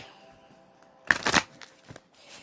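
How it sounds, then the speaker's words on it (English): A deck of tarot cards being shuffled once in a quick riffle lasting about half a second, close and fairly loud in a quiet room, followed by a couple of soft card taps. "All right, I'll shuffle one more time."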